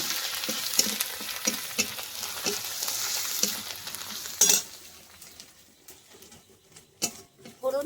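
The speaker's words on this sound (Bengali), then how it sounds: "হলুদ গুঁড়োটা একটু ভেজে দিলে ভালো লাগবে মশলার সঙ্গে।" Turmeric powder, grated ginger and spices fry in hot oil for dalia, a crackling sizzle broken by rhythmic stirring scrapes and a metal clink before settling into quieter frying.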